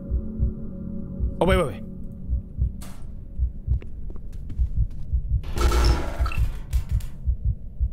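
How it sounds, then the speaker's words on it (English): A steady, muffled heartbeat thumps rhythmically in a Roblox horror game, low and continuous throughout, with someone talking quickly over it and other brief game sounds. "I don't like the heartbeat."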